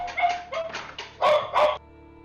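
Several sled dogs bark in quick, uneven bursts close by, a run of sharp yips followed by two louder barks before it falls quiet.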